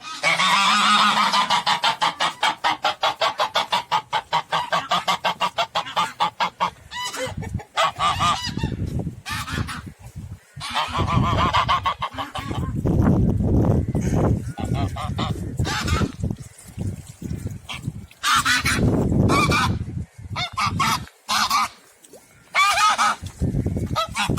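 Broody geese sitting on eggs honk loudly and close by, first in a fast rhythmic run of calls, then in harsh overlapping honks.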